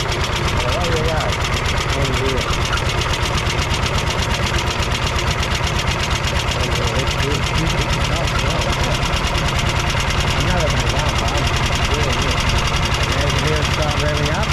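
BSA motorcycle engine powering a large towable camping fridge, running steadily with a fast rhythmic knocking pulse throughout, loud and close, with no notable revving evident.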